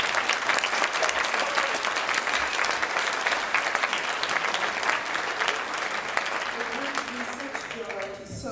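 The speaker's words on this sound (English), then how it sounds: "I want you to give the mayor a big round of applause" A crowd gives the mayor a big round of applause at a gathering. The clapping is dense and sustained at steady volume, then tapers off near the end as a voice begins speaking.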